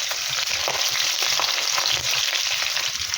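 Tempering spices, dried red chilies, slit green chilies and curry leaves crackle and sizzle steadily in hot oil, a dense continuous frying hiss with small pops throughout, close and loud with no talking.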